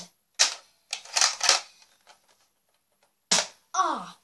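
Nerf foam dart gun firing, a handful of sharp, close clicks and bursts separated by pauses, then a brief voice at the very end.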